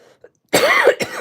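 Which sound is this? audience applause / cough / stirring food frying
cough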